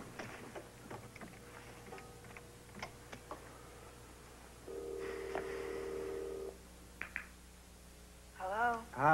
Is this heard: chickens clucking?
no